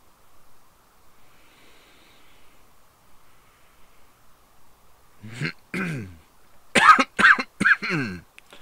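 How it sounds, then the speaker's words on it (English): A person in a studio coughs several times in a rough, harsh burst near the end, loud and close, after a long stretch of quiet room hum with faint rustling. "A terrible cough."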